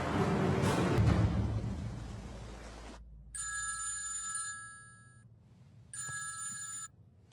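A telephone rings in two clear bursts separated by silence, fairly faint, following a stretch of broad hiss and noise.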